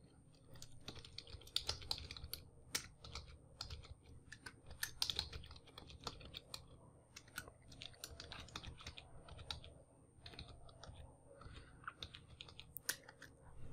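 Steady rapid typing on a computer keyboard while a Python CSV file is edited, with close, light, irregular key clicks continuing throughout and no talk.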